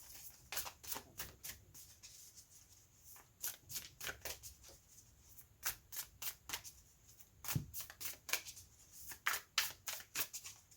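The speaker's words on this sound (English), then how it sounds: "Let's go ahead and pull an oracle card before we close out your reading." Oracle cards are shuffled by hand in a steady run of crisp riffling bursts, close and quiet, repeating for about ten seconds with no talking.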